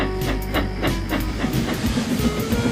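A small steam locomotive named Nia puffs quietly out of the engine sheds, soft rhythmic chuffs repeating steadily over a low rumble and faint hiss, moderately near.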